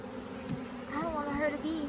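Honey bees buzz around hive frames during a hive installation, a steady close drone with wavering pitch as individual bees fly past, moderately loud with faint handling noise.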